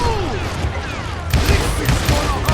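Gunshots in the Western shooter Call of Juarez: Gunslinger, with sharp booming shots and crashes over a busy game mix that grow heavier in the second half, loud and close, alongside brief voices.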